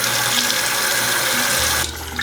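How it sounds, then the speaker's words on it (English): Water runs steadily from a bathroom sink tap while someone wets their face. The steady splashing flow is close and loud and cuts off near the end, with no talking. "but I'll wet my face a little bit."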